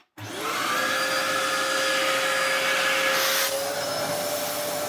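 A Dyson mini vacuum cleaner with its side air holes blocked starts up abruptly and runs with a loud, strained whine that shifts in pitch partway through, close and alone.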